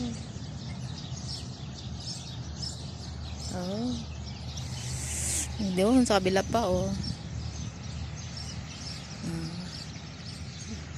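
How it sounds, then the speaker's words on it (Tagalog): Birds chirp in a date palm farm in short, bright bursts of rising calls, the busiest cluster in the middle, while people talk nearby. "Daming ibon."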